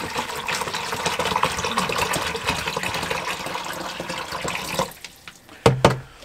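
Camper RV toilet flushing, a rushing stream of water pouring steadily for several seconds before cutting off, followed by a couple of brief clunks and gurgles.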